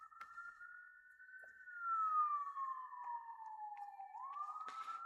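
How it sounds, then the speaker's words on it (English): A distant siren wails outside, one long tone sliding slowly down in pitch and then starting to rise again, faint but clear against a quiet room. "Sorry about the siren."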